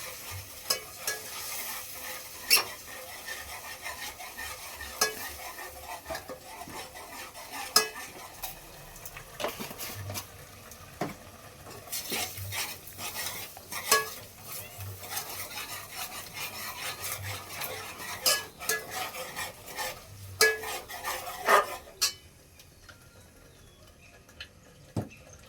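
Onion sautéing in a pan for paneer tikka, heard as quiet, intermittent scraping and rubbing of a spoon against the pan, with a soft sizzle underneath and occasional clinks.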